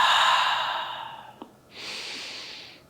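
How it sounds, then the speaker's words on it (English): A deep breath taken during a yoga neck and shoulder stretch, with a long, soft exhale that fades out, then a brief click and a steady, airy inhale close to the mic. "Nice deep breath"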